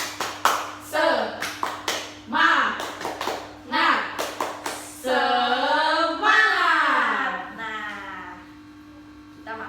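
Children in an Indonesian primary-school class do a rhythmic spirit clap, with crisp hand claps in quick patterned bursts over the first half. Loud, shouted group chanting follows, and a low mains hum runs underneath throughout.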